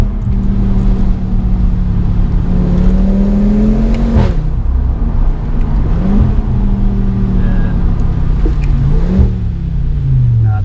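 An Audi RS3's engine revs loudly and steadily up close, its pitch climbing and dropping through several cycles of rising and falling revs, with no talk over it.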